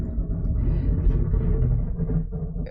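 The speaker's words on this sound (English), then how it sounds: "they're plowing the sidewalk instead of plowing the street." Low, steady rumble of a snowplow clearing a sidewalk during a storm, a continuous heavy drone that stays fairly constant throughout with no speech.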